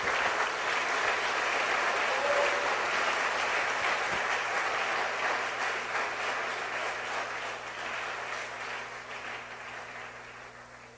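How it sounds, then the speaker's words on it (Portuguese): A church congregation claps steadily in a large room, broad and sustained, then slowly fades toward the end; no one speaks. "Bate palmas para Jesus."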